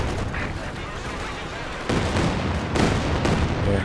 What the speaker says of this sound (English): creeping barrage from KIROV.